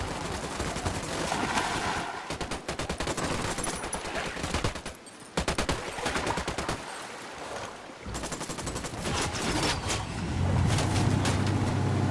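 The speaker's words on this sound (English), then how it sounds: "I'm shooting these fuckers." Bursts of rapid automatic gunfire in the video game Ghost Recon, loud and sustained, with engine rumble beneath.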